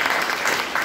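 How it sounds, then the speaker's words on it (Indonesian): A church congregation breaks into steady, dense applause for a moment of praise, with continuous clapping throughout and no talk. "Berikan tepuk tangan buat Tuhan kita"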